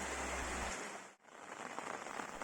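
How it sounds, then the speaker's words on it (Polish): A heavy rain downpour falls outdoors by a raspberry patch, a steady, fairly faint broadband hiss of drops that briefly dips near the middle before resuming, with no voices. "no ale deszcz znowu się nasilił"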